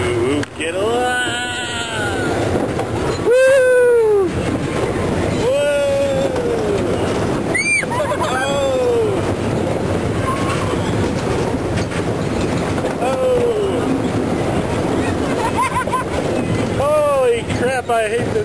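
A Tilt-A-Whirl amusement ride spins with a steady loud mechanical rumble and wind buffeting, while riders shout, scream and talk over it throughout.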